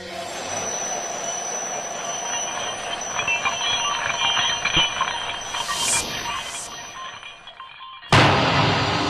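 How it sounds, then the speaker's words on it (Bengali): A train approaches on a railway line in a Bengali animated ghost story, a rising rumble with high metallic ringing and squeals building over several seconds before a sudden loud rush near the end. "লাইন থেকে সরে যান, ট্রেন আসছে।"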